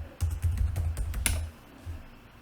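Quick bursts of keystrokes on a computer keyboard, close and fairly quiet, tapping in a fast run that stops after about a second and a half and is followed by one soft extra click.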